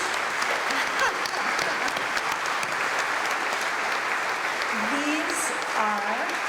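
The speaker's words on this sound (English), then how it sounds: "If you would join me in giving these students a round of applause." An audience claps steadily for students being honored at a Holocaust remembrance ceremony, a dense even round of applause that holds throughout, with a voice speaking over it near the end.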